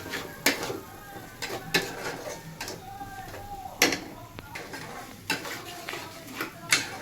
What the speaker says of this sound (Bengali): দিয়ে ভালো করে নাড়াচাড়া করতে হবে।